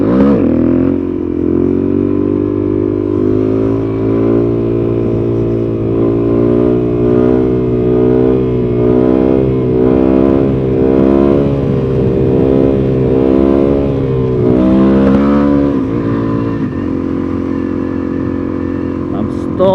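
A Suzuki DRZ400SM motorcycle engine drones loudly and close, its pitch rising and falling in repeated rev swells, with speech over the engine noise.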